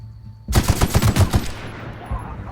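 An assault rifle fires a rapid burst of about eight shots in a video game, loud and close, followed by a ringing, decaying tail and one fainter final shot.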